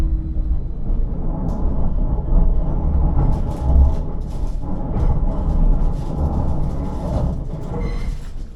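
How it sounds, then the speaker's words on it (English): A long intercity train pulls out of a station and snakes slowly along, with a steady rumble of rolling stock, scattered clicks from wheels over the track, and occasional faint squeals, heard from on board. "After departure, we got to snake our way out of the station."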